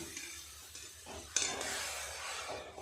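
A small splash of water goes into ground spices frying in a pan for biryani, turmeric, cumin and chili powder, giving a soft broadband sizzle and scraping stir that swells sharply partway through and holds steady and close.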